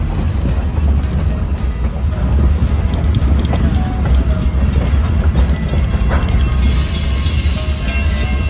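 Historic train rolling along rails in Utah, a steady rumbling roar with faint wheel clatter, heard from nearby and continuous throughout.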